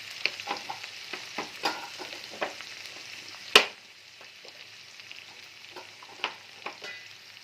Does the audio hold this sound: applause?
no